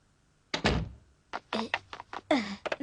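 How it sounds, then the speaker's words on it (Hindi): A door being shut in a Hindi-dubbed Doraemon cartoon: one solid thunk near the start, followed by lighter knocks and clatters amid short bursts of voices. "दरवाजा बंद नहीं करोगे?"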